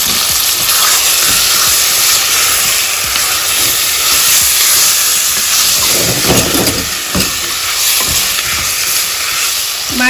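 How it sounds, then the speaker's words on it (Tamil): Mutton pieces marinated with turmeric and salt sizzle and fry steadily in a hot pan while being sautéed for mutton soup, a loud, continuous hiss with crackling spatters throughout and no talking. "மட்டன் சேர்த்ததுக்கு அப்புறம் ஒரு வதக்கு வதக்கிட்டு"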